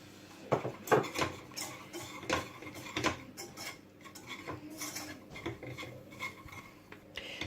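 A utensil scrapes and taps against a saucepan while stirring a butter-and-flour roux in an uneven rhythm, with clinks and rubbing strokes, close by and without talk.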